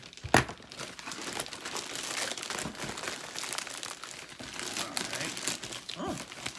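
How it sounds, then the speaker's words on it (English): A plastic mystery bag is cut and torn open up close, giving continuous crinkling, rustling and crunching, with a sharp snip near the start. "let's cut this bag"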